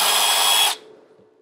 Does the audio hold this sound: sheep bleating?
no